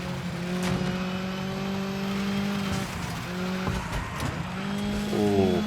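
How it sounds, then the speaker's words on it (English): A Ford rally car racing in Dirt 5, its engine droning steadily with rising and falling revs through gear changes, tyres scrabbling and squealing on the surface, heard close and continuous. "So I'm driving the Ford."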